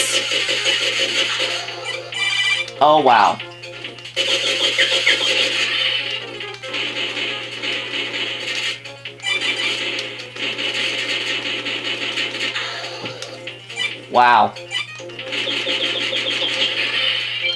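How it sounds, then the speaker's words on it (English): Vectorman game music and sound effects playing on a Genesis Flashback console: a busy synthesized electronic track with a steady low drone, and sweeping effect sounds near the start and end, while a person briefly exclaims. "You have perfectly replicated the original Vector Man music."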